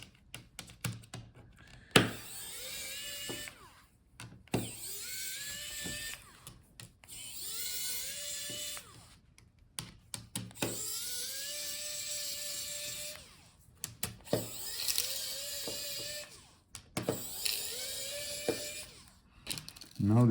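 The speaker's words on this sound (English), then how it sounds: "So let's take out these screws." Small screws being backed out of the palmrest touchpad assembly of a Dell Latitude 7440 laptop, with quiet ticking and ratcheting clicks in repeated bursts separated by pauses, close up and fairly soft.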